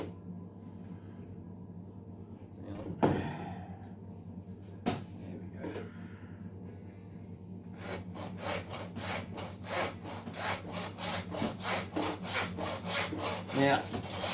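Hacksaw cutting through sheep bone during butchering: a few tentative strokes give way after about eight seconds to a steady, fast back-and-forth rasp, close and moderately loud with no talking.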